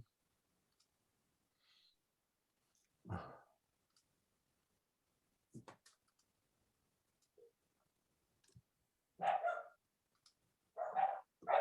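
Dogs bark faintly in scattered single woofs and a few quick bursts near the end, somewhat distant and indoors, with long quiet gaps between them.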